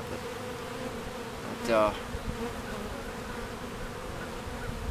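A swarm of honeybees on a beekeeper's chin forming a bee beard, giving a steady low buzzing drone with one brief louder rising buzz as a bee passes close.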